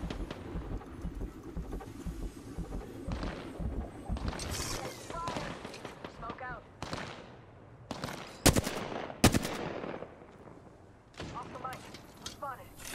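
Bursts of gunfire in the video game Apex Legends crack out in rapid volleys with sharp, loud reports, mixed with other game effects, while a character's voice calls out over the action.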